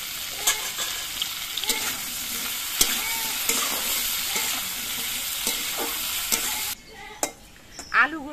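Potatoes sizzle in hot oil in a wok with a light sprinkle of salt, as a spatula stirs and scrapes through them with scattered clinks; the frying fades out near the end, leaving a few sharp utensil knocks.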